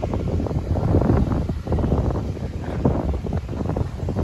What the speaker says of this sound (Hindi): फाइनली हवा चल गई है भाई, आंधी आ रही है।